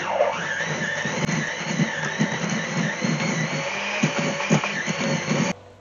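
An electric mixer beats butter and brown sugar in a bowl for oatmeal cookies, giving a steady, loud whirring drone with uneven knocking pulses as the beaters churn, cutting off abruptly just before the end.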